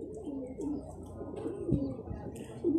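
Pigeons cooing softly at close range, several low repeated coos overlapping with faint chirps in a quiet loft.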